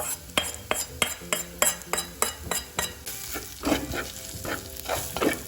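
A fish curry with chili powder being stirred in a clay pot: a rapid run of sharp spoon scrapes and knocks against the pot over a sizzling simmer that grows more bubbly toward the end.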